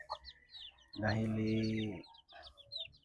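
A young Livorno bantam chick gives a sustained, tonal call lasting about a second, framed by faint, high chirps and peeps close by, and someone says a word.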